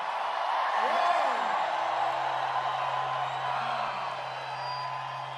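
A large crowd at a Donald Trump campaign rally in Norcross, Georgia, cheering and whooping in a steady, broad roar with a few rising shouts over it.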